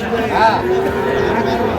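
A cow gives a short, loud, close moo at an outdoor cattle market for young bulls and heifers, heard against the market's busy background murmur.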